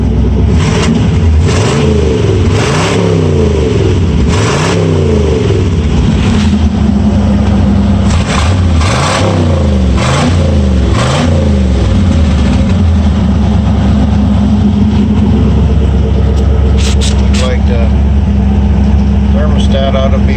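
A 1960 Ford F100 engine with a freshly rebuilt carburetor idles high and steady, close and loud, with a few blips of revving early on and a continuous low rumble throughout.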